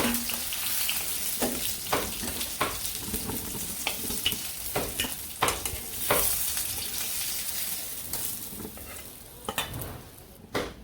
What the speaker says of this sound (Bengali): তেলের মধ্যে সবজিগুলো দিয়ে দিই